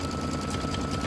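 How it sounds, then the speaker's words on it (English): Sewing machine running steadily while stitching the edge of a satin-stitch zigzag on appliqué fabric, a continuous close motor hum and rapid needle chatter with no voices. "It's going to sew an edge stitch on the inside of the zigzag and again on the outside of the zigzag."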